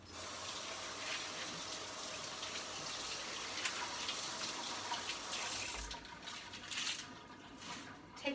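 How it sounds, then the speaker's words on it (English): Spinach being rinsed under a running kitchen tap, a steady close rush of water into the sink that continues throughout, with splashing shifting briefly near the end as leaves move under the stream. "So I'm going to wash the spinach."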